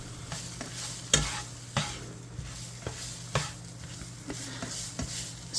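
Ground beef sizzling in hot oil in a pan while a utensil stirs it, with sharp scraping strokes recurring every half second or so over a steady frying hiss.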